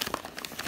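A dog tears into the paper wrapping from a BarkBox, producing a short burst of close crinkling and crumpling paper with quick rustles and rips.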